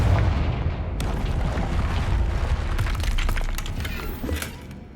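The Confringo blasting spell in Hogwarts Legacy erupts into a dense, sustained explosive roar with crackling debris, loud throughout and easing slightly toward the end.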